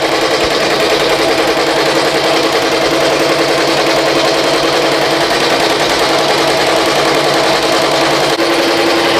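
A BAI Mirror 1501 embroidery machine stitches a sketch design onto a T-shirt, its needle running in a fast, steady, loud mechanical chatter that never pauses.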